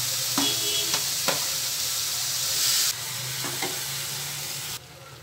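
Small tomato pieces fry in hot oil, giving a continuous bright sizzling hiss with a few sharp clatters of a spoon, loud and close, the sizzle dropping away abruptly near the end.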